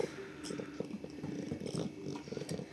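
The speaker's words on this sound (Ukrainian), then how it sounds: "Муркоталка." A cat purring close up in a quiet room, a soft continuous rumbling purr with faint shuffles and small background noises.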